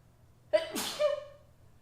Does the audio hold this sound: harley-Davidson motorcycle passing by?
no